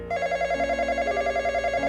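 A telephone rings as a sound effect, a close, steady electronic trill with a rapid warbling pulse that sounds throughout, with no voices.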